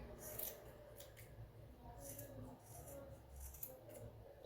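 Scissors snipping through craft material for handmade flowers, several short crisp cuts in an irregular rhythm, close and quiet, with faint background hum.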